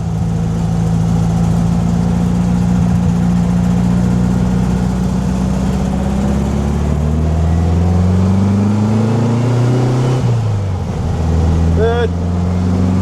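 A 1965 Volkswagen Beetle, its transaxle having recently given trouble, pulls away in second gear with a loud close engine drone that rises in pitch, then drops briefly around a gear change before building again.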